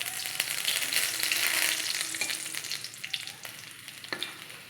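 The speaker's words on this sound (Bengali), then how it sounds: "কড়াতে তেল গরম হয়ে গেছে, আমি দিয়ে দেবো শুকনো লঙ্কা আর তেজপাতা।" Dried red chillies and bay leaves crackle and sizzle in hot oil in a kadai, a bright steady frying hiss close by with a few sharp pops and occasional stirring clicks.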